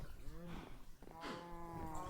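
Minecraft cows on a farm give several drawn-out moos in close succession, fairly loud against a low game background, with no talk.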